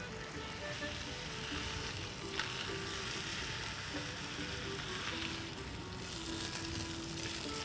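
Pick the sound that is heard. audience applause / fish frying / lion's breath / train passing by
fish frying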